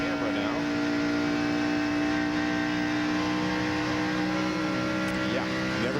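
A NASCAR Winston Cup race car's engine roars at California Speedway during the 2000 NAPA Auto Parts 500, heard onboard from Dale Earnhardt Jr.'s car as a loud, steady, close-up drone that holds at high revs throughout.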